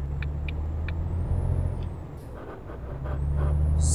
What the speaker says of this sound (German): Hört sich fast so an wie der ganz normale Volvo.